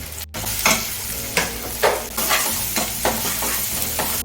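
Ground turmeric, chili powder, coriander and cumin sizzle in hot oil in a pan, while a spoon scrapes and stirs them in repeated close strokes over the steady frying hiss.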